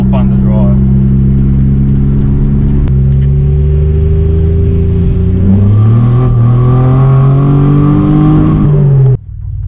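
A Nissan Navara with a boosted VG30 engine pulls hard through the gears, revving loud and close with rising engine tones, a brief dip at a shift, then cutting off sharply at the end.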